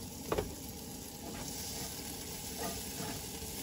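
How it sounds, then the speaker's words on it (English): Peppers frying over a camp stove outdoors, a steady broadband sizzle throughout with a couple of brief louder pops near the start, close and continuous with no talking. "I'm gonna burn the peppers."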